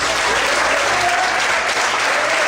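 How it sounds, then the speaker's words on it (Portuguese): A church congregation bursts into dense, sustained applause during a sermon, a loud continuous wash of many hands clapping together with no break. "Você pode aplaudir o Senhor por isso?"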